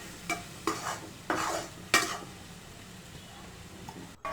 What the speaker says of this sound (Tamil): கடலைப்பருப்பு வேக வச்சது போட்டு கிளறி விட்டுக்கலாம்.